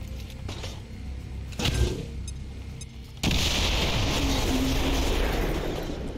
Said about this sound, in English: Triple explosion on that guy.